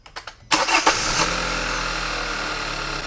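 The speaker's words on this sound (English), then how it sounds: "let me go start to see if the engine's still shaking" A car engine cranks briefly after a few clicks, catches with a loud burst and settles into a steady, even idle after an ignition coil repair, heard close and alone.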